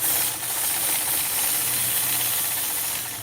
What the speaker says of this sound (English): Then I'll engage my machine, apply gentle pressure, and then quilt along that curve.